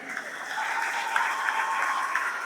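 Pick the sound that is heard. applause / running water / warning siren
applause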